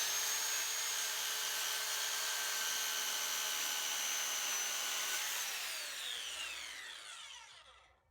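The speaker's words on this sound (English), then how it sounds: "I'm going to cut that so I have some nice even rectangular planks." A power saw cuts wooden fence planks for a raised garden bed. A loud, steady high-pitched whine holds for several seconds, then winds down as the blade spins to a stop, with no talking.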